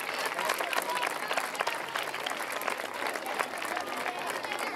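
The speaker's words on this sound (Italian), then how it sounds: "facciamo un applauso ai concorrenti che non ce l'hanno fatta" Steady audience applause at an evening opening event of a parish summer youth camp, honoring the contestants who did not advance, with dense continuous clapping and crowd noise throughout.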